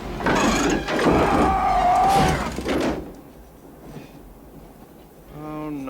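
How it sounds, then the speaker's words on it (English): A train rumbles and clatters loudly for about three seconds, with a sliding door sliding and slamming. The noise then drops to a quieter rolling hum under faint voices. "Gordon, stop the train!"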